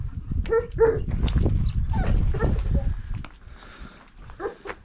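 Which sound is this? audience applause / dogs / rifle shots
dogs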